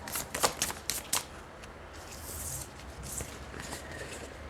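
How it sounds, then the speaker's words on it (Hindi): Tarot cards being shuffled during a reading, a quick run of crisp riffling snaps in the first second and a half, then a softer, steady rustle. "आपने देखा मैंने शफल किया"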